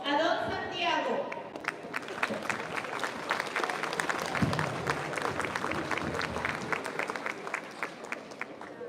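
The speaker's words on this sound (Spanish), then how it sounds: "vamos a brindarle un fuerte, pero fuerte aplauso a don Santiago" Crowd applause at a town queen-election event in San Mateo, Valparaíso, Zacatecas, steady clapping from many people with a voice and chatter early on, a brief low thump near the middle, and sustained hand claps to the end.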